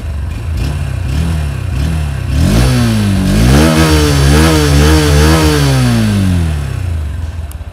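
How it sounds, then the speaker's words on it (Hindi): A 2023 Honda Hornet 2.0 motorcycle engine revs up hard, climbing to a loud, high-pitched whine that overpowers the exhaust, holding at high RPM before easing back down. "जो इंजन का साउंड है हाई RPM से में वो एग्जॉस्ट साउंड को पूरा का पूरा ओवरपावर कर दे रहा है"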